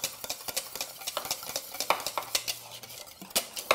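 Butter is whisked into vanilla bean pastry cream in a pot, a rapid run of close metallic ticks and scrapes against the pan, steady and busy throughout.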